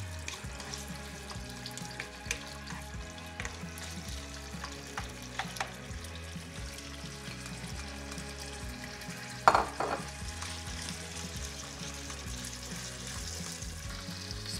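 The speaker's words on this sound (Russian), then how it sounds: "Овощи надо нам слегка обжарить" Vegetables are lightly fried in rendered wild boar fat, with a continuous close sizzle, occasional soft stirring and a faint background hum, no voices.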